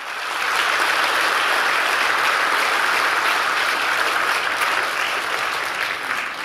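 Loud, dense applause from a church congregation welcoming a pastor's family at a 40th anniversary celebration, swelling quickly and holding steady throughout.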